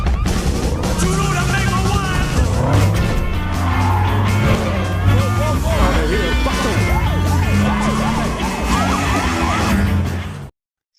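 A car chase from the film Baby Driver, with sirens wailing and rising over engines and a loud, busy action mix. Music and voices are layered through it, and the sound cuts off abruptly at the end.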